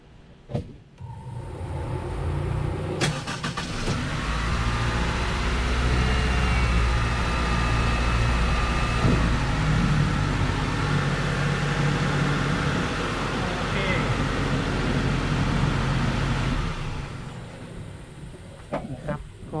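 A second-generation Honda CR-V with a hard-starting fault is cranked and its engine runs in a steady, loud rumbling drone that holds for most of the stretch before dying away, close by with no talk.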